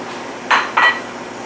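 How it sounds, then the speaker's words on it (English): Tofu and vegetables tipped into an oiled pan, making two brief, close clattering thuds a moment apart against a quiet background. "I'm going to put a little olive oil in the pan here, and then I'm going to dump my ingredients in the pan"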